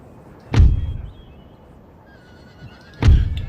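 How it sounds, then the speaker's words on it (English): Two loud horse whinnies in the video game Empire: Total War, one near the start and another near the end, separated by a quieter stretch of low background rumble. "So his horse moving around."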